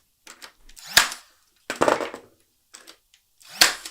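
Nails tack a wooden slat in place on a DIY outdoor serving cart, three sharp, separate bangs spaced over a few seconds with quiet in between.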